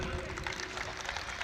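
Dense, continuous applause fills the hall at an Urdu poetry mushaira in Hyderabad, a crowd clapping evenly throughout the moment with a faint murmur of voices beneath.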